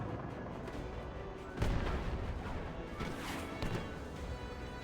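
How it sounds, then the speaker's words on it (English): Cannons fire in the World War Armies video game, a heavy boom followed by a second, softer blast amid a continuous din of battle, moderately loud with no voices. "Cannons, fire."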